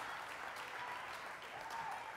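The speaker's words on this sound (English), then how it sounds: "Somebody clap your hands and give glory to God." A church congregation at a healing service claps its hands together in a continuous wash of applause, soft and somewhat distant, steady from start to finish.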